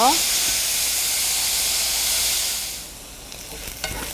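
Chopped onion fries in a pan until golden brown for an okra curry, giving a loud, steady sizzle that fades down after a few seconds, followed by a few light stirring sounds.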